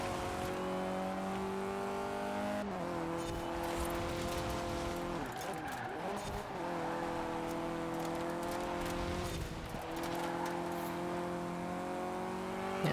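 A Renault Clio Williams races in Forza Horizon 4, its engine holding a steady droning rev with gear-change dips, continuous and loud, with a voice talking over it.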